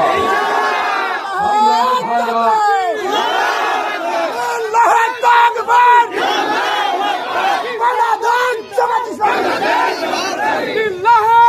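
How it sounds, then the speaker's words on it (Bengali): A large crowd at a Jamaat-e-Islami Bangladesh rally loudly chants a political slogan in unison, with rhythmic shouted phrases and scattered chatter throughout. "আপনারা ইতিমধ্যে একটা স্লোগান শুনতে পেয়েছেন, সব দল দেখা শেষ, জামাত ইসলামী বাংলাদেশ"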